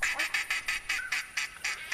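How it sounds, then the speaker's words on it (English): Ducks quack in the hunting video game theHunter Classic, a rapid rhythmic run of about eight nasal quacks, close and clear with no talking. "Alright, we finally got some ducks."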